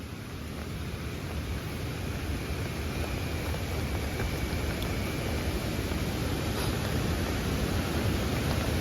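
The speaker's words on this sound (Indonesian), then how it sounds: "Tuh ini di air terjun nih." A constant, dense roar of rushing water fills the whole stretch, steady and fairly loud with no voices, like a waterfall heard close by.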